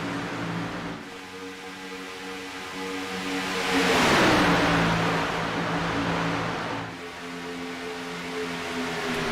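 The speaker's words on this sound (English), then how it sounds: "we'll listen to these cars as they go by for a few laps here" Race cars lap a superspeedway in a racing video game. Engines drone steadily, and one car swells loudly and sweeps past in the middle before the pack settles back into a continuous hum.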